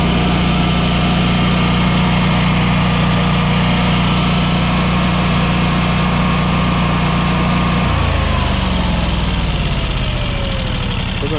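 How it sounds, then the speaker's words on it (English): An old generator engine with a small oil leak runs loud and steady outdoors on a snowy day, then its pitch sags and slows as it begins winding down near the end. "we're out here with the old generator"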